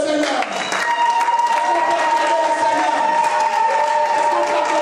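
A church congregation at a French-language worship service claps and cheers loudly and steadily, dense applause sustained throughout with sung or shouted voices and a held musical tone running underneath.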